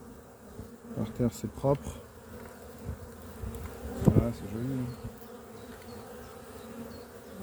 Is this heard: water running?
no